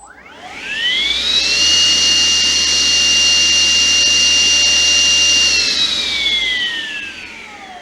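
A Stihl TSA300 battery cut-off saw spins up to a high, steady whine, holds a loud, even pitch for several seconds, then winds back down as the blade slows, with no talk.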